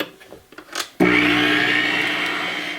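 An electric mixer starts up with a sudden whir and runs steadily, beating blueberry square batter in a bowl, after a few soft clicks and knocks of handling; loud and close, no talk.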